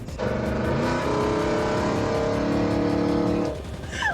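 A first-generation Raptor pickup truck's big engine roars to life and revs hard, a loud, rumbling drone that holds steady for a few seconds before dropping off.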